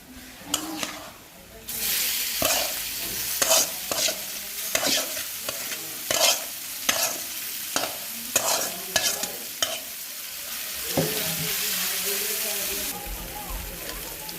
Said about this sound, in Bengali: আর পেঁয়াজ ভাজবো সরিষার তেল দিয়ে পেঁয়াজটা ভেজে নিবো